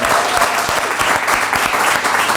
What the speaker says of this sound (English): A round of applause, please, for Ryan Sampson and Danny Dyer, everybody.